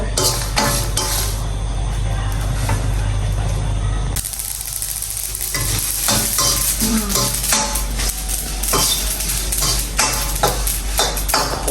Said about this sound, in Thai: คั่วให้มันหอมเด้อ